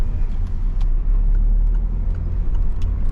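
A learner driver's car engine hums steadily as the car pulls away in second gear, with a loud, even low drone and faint road noise.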